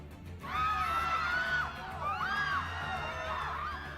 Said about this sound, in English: Thank you for putting the scream sound effects for me